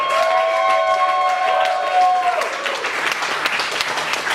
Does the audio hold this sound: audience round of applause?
yes